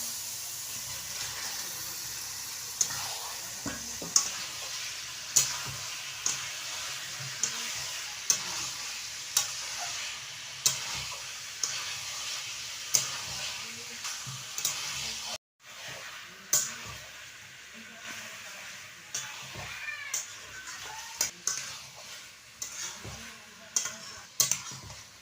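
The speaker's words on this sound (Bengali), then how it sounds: "মশলাটা আমার কষানো হয়ে গেছে, ভেজে রাখা চিকেন আর আলুটা দিয়ে দেবো।" Fried chicken and potato pieces are stirred into a sizzling spice masala for Bengali chicken kosha. A constant hiss of frying runs throughout, with regular scrapes and knocks from the spoon against the pan and a brief cut to silence midway.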